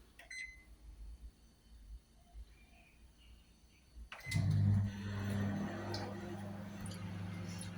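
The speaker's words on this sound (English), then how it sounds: "now I will cook it for 8 minutes on microwave" Microwave oven cooking onion sambhar, a quiet room giving way to a sudden steady hum from the running oven that continues to the end.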